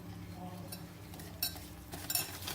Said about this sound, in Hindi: पिसी हुई चीनी, दही और घी को मैंने अच्छी तरह से मिक्स कर लिया।